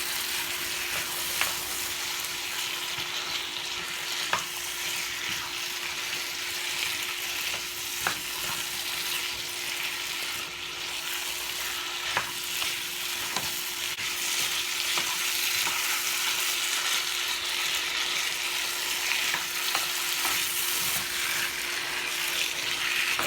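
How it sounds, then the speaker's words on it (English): Steady sizzling and frying in a pot as potatoes are stirred into curry chicken, with occasional spoon scrapes over a constant hiss and a faint hum, no voices. "I want to coat them with that curry before I add them to the pot"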